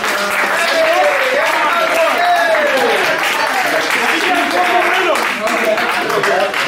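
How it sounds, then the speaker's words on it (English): A group applauds in a room after a hot-pepper eating challenge, the steady clapping continuing under loud voices talking and calling out over it. "Let's all give him a round of applause."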